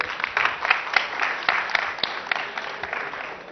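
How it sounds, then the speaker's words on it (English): An audience at an event with the Governor claps for a student, a moderate, fairly close spatter of applause with scattered distinct hand claps that tapers off over a few seconds. "give a clap to her"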